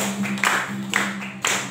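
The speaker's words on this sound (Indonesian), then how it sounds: "Tepuk tangan saudara." A church congregation claps along during worship singing, with sharp rhythmic claps about every half second over a sustained sung tone.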